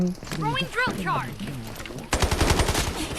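Gunfire in the video game Delta Force starts as a sudden, rapid automatic burst of shots after someone speaks, and his voice carries on over the shooting.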